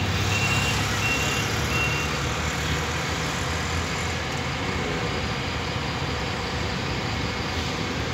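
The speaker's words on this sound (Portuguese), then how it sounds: "Os ônibus para sair agora" Buses idle and pull out of the Campo Limpo bus terminal in São Paulo at rush hour, a steady engine rumble and traffic wash with a few faint reversing beeps early on.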